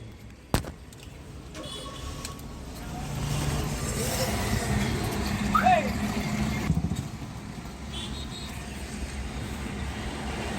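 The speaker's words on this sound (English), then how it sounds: "Now I started the car." A Hyundai Verna engine cranks and starts, then idles steadily in the background while a person moves around nearby.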